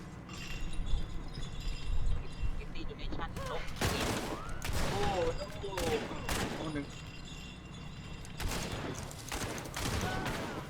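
Gunfire and an explosion from the Hunt: Showdown video game come in scattered bursts and sharp cracks. They sound mid-distance, mixed with game ambience, while a player talks excitedly over them.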